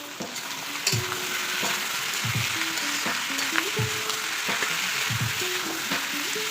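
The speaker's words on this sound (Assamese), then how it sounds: "এতিয়া মই অলপমান মাংসখিনি ভাজি ল'ম।" Meat sizzles steadily in a hot pan for a mutton or chicken curry, with several stirring scrapes and clanks spaced through the continuous frying hiss; no one talks.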